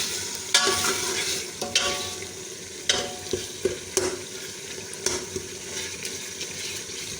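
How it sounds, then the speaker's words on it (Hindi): Cooking tomatoes are pressed and stirred with a spoon in a hot pan, producing a steady sizzle punctuated by sharp, repeated clanks and scrapes of the spoon against the pan. "अपने चम्मच से ऐसे करके इसको दबा के कर लेंगे ताकि थोड़ी जल्दी हो जाए हमारे टमाटर।"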